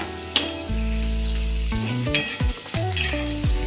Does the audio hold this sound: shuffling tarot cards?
no